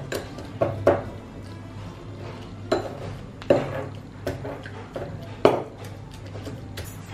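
Pestle pounding lime with salt into a mash in a mortar, a series of light irregular knocks with soft clinks, some spaced a second or so apart, close by with a low steady hum underneath.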